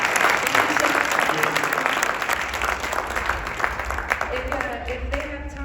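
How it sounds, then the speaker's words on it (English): A crowd at a talk on tour playback engineering gives a warm round of applause, dense clapping with scattered cheers and some voices in the mix, gradually thinning toward the end. "round of applause for these guys"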